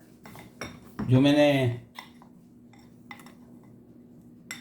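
A spoon scrapes across a dish while spreading pistachio powder for baklava: one loud, ringing scrape about a second long, followed by soft scattered taps and clicks, with a brief bit of speech.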